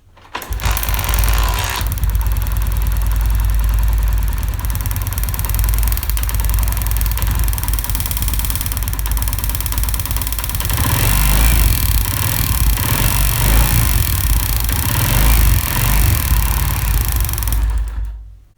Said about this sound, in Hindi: अब यहाँ से मैं बाइक को स्टार्ट करता हूँ।